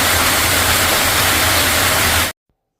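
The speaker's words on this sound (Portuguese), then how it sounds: "A cascata Manoilova, que é a mais alta do rio Krka" Manojlovac waterfall, the highest on the Krka river in Croatia, roars as a steady broadband rush of falling water that cuts off abruptly after about two seconds.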